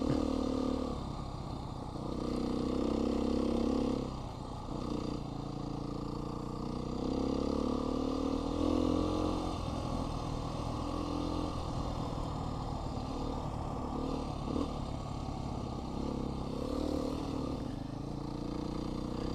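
A Honda XR 650R motorcycle is ridden along a forest trail in Pike National Forest. A steady, close engine drone carries on throughout, rising and falling slightly with the throttle among faint rattles.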